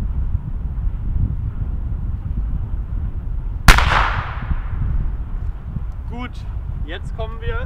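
A single sharp firecracker bang from a Weco Pyrocracker, sudden and loud with a short decaying tail, set against steady outdoor background noise, followed by a few faint chirps.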